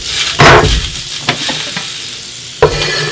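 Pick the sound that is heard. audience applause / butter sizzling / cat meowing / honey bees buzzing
butter sizzling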